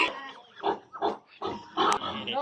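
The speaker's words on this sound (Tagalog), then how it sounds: "Uy, may baboy." Hungry pigs on a farm keep grunting and squealing in short, noisy bursts, several animals close by in a busy, irregular chorus.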